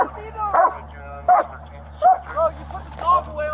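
A dog gives four separate barks or yips at roughly even intervals, close and fairly loud, over a low steady hum like an idling car engine.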